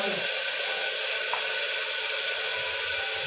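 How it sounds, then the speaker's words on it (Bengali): Spices sizzle steadily in hot oil in a pan for a Bengali doi chicken curry, a continuous bright hiss that stays close and even from start to end. "মশলাটা খুব বেশিক্ষণ ভাজবো না"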